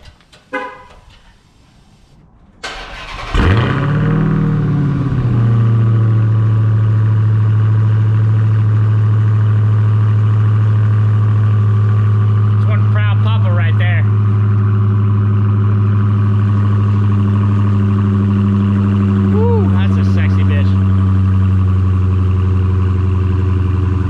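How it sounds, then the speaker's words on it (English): A 2020 Dodge Hellcat cranks briefly, fires up with a loud cold-start roar and rising revs, then settles into a deep, steady, heavy idle rumble that continues close and loud for the rest of the span. "Everybody knows we love the cold start as car enthusiasts"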